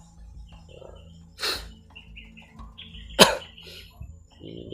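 Birds chirp outdoors in a breezy rural setting: scattered short, faint tweets sound over a low background, broken by a couple of loud, close coughs or throat-clearing sounds.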